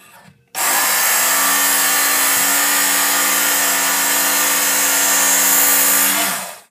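A belt sharpener grinds a Ghanaian sword blade, a loud, steady abrasive whine that starts abruptly, holds continuously for about six seconds, then cuts off, with no talking.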